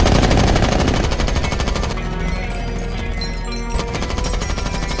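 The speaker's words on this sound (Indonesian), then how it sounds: "mereka berdua langsung membunuhnya dengan cara menghujani banyak peluru" Movie scene of machine guns pouring many bullets into a car, heard as a dense, rapid, loud burst of automatic fire that tapers into scattered shots and metallic rattles, with no voices.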